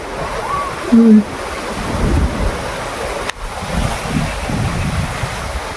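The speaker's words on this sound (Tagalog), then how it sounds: "Lakas ng hangin dito." Strong wind buffeting the microphone in a steady roar, with a few faint voice-like sounds early on and gusts rising and falling.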